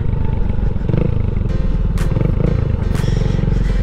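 A Honda TMX 125 Alpha motorcycle rides on a paved road, its engine droning steadily and loud up close with wind rush and a few brief rattles over the hum.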